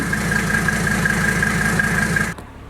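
A Mercedes OM617 diesel engine, started cold on a freezing morning, idles with a steady, rumbling, even throbbing hum, then cuts off abruptly near the end, leaving near silence.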